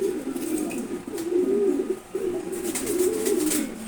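Several racing pigeons, including a maxi racer, coo steadily in a loft, the low rolling coos overlapping almost continuously for about four seconds with a brief pause near the middle.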